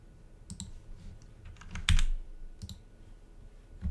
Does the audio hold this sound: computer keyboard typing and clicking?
yes